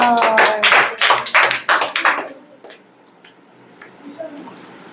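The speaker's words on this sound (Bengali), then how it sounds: "হাততালি কোথায়" A burst of brisk hand clapping, loud and close, fades out after about two seconds, leaving a few scattered taps and quiet.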